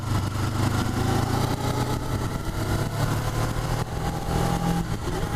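A new Suzuki GSX250R motorcycle engine runs steadily at a low, even idle-like drone, close and continuous throughout with no talking.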